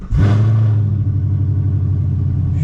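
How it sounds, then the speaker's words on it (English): A straight-piped Chevrolet Camaro fires up with a sharp loud blast, then settles into a deep, heavy rumbling idle with slight revving, heard close from inside the car. "put the windows down so you guys can hear the car start"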